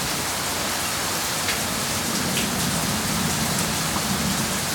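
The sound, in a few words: rain during a thunderstorm in central Oklahoma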